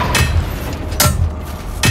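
Three heavy, evenly spaced sledgehammer impacts in a video game, each a sharp, loud thud with a brief ring, spaced slightly under a second apart.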